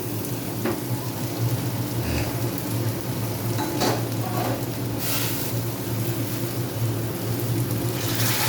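Onions frying in a pan while being stirred, a continuous sizzle with occasional scraping and clinking from the utensil, alongside a steady low hum.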